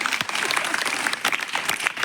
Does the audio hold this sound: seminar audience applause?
yes